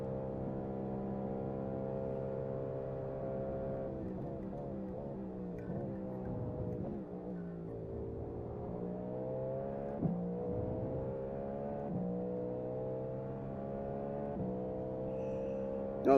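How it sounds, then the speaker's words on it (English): Steady droning engine note of a Cadillac GTP prototype race car in a racing video game, Le Mans setting, held at a sustained pitch with slight rises and dips, moderately quiet and continuous with no talk. "I like the sound of the Cadillac. Oh yeah, this thing sounds amazing."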